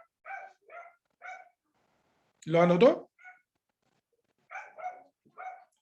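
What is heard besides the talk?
dogs barking outside at the mail carrier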